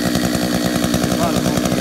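Chainsaw cutting branches off felled trees in a roadside ditch, engine buzzing loud and close with a steady, slightly pulsing drone throughout.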